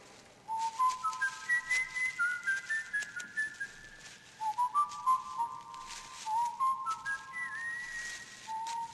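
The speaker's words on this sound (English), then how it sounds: "What's that you're whistling?" Someone whistles a wandering melody with clear, sustained notes that rise and fall in phrases, with nothing else in the background.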